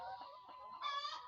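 Layer hens cluck in a poultry shed: a brief, fairly soft run of overlapping clucks and calls from several birds, with no other sounds over them.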